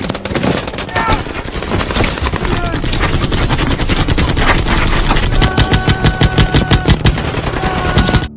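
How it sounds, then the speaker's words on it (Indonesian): Rapid bursts of enemy machine-gun fire rattle continuously amid heavy battle noise in a Vietnam War film scene, with a steady rhythmic chatter and brief tonal beeps near the end. "rentetan tembakan senapan mesin musuh menembaki mereka tanpa henti"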